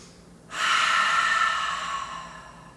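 A deep breath during a yoga pose: one long, steady, airy exhale begins about half a second in and carries on close and fairly loud, slowly easing off toward the end.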